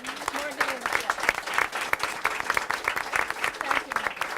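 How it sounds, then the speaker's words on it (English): An audience at a women-in-leadership event applauds graduating fashion merchandising student Morgan, with dense, sustained clapping and voices mixed in throughout. "So I'd like to give Morgan an applause."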